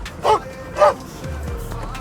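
A dog gives two short, separate barks or yips at mid distance, each standing alone against a quiet room, with faint low rumbling between and after them.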